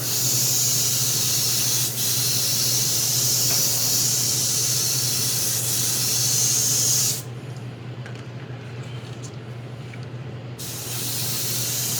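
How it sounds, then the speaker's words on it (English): An airbrush sprays paint on a 1/5-scale figure in a steady loud hiss, briefly easing off to a quieter hum before the spray starts again. "Spraying into the center."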